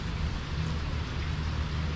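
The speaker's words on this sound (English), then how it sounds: "So rain's easing off a bit now. A bit of thunder in the background" Rain easing off over a palm tree fishing lagoon in Thailand with thunder in the background, a continuous hiss of rainfall layered over a low, distant rumble, steady throughout with no talking.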